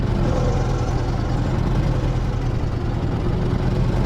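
A V8 truck engine in Universal Truck Simulator drones at a steady low idle, a constant rumbling hum with no revving or pauses.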